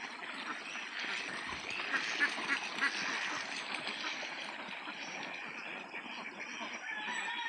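Ducks quacking in a flooded rural area, a dense continuous chorus of calls, moderately near, with other fowl mixed in and a little speech underneath.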